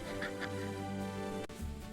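A couple of short nasal duck quacks ring out early, set against continuous tonal background music, followed by a brief abrupt cut.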